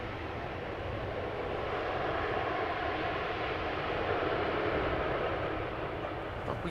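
An Embraer airliner arrives at Amsterdam Schiphol Airport, its engines a steady broad roar heard from a moderate distance, holding even throughout with no voices.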